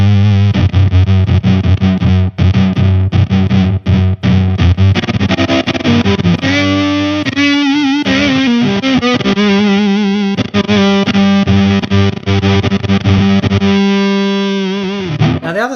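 Heavily effected, distorted electric guitar through an Electro-Harmonix Attack Decay pedal, sustaining chords and notes with slowly swelling, wavering tone, loud and continuous without any voices.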